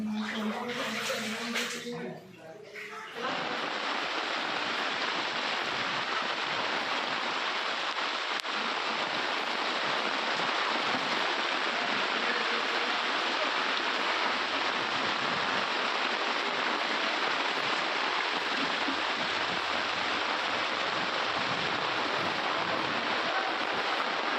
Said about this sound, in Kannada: ಹುಬ್ಬಳ್ಳಿಯಲ್ಲಿ ಮಳೆಯ ಅಬ್ಬರ